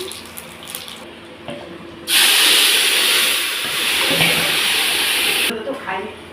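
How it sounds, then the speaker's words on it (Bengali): Whole cumin seeds and bay leaves sizzle as they hit hot oil, a loud, steady broadband hiss that bursts in abruptly and holds for several seconds before cutting off. "তেল গরম হয়ে গেছে গোটা জিরার তেজপাতা ফোড়ন দিয়ে নিলাম"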